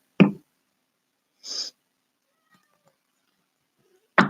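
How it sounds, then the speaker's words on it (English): A cat meows near a computer indoors, two short close meows a second apart, a brief breathy chirp between them, and a third meow cut off at the end, with quiet in between. "Looks like my cat's settling down right behind the computer."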